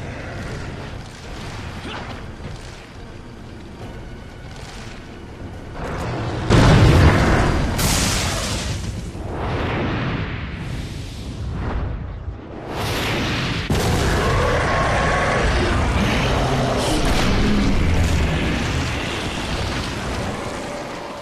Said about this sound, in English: I don't know if you have to use this rocket launcher to finish him off